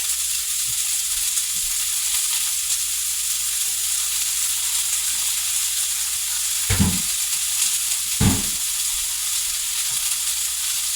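A steady sizzle of ground beef frying in a preheated skillet, with two brief knocks of a utensil partway through and no talking.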